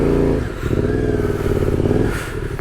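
A Suzuki V-Strom 800DE adventure motorcycle revs hard in slippery mud, with a loud, close engine that drops briefly and then climbs again into a rough, sustained roar.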